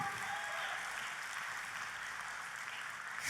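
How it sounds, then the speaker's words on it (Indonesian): Congregation applauding in church, a broad, even wash of clapping from many hands, moderately distant and sustained without a break. "Tepuk tangannya yang paling meriah buat Tuhan kita."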